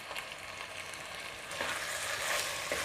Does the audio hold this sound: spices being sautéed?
yes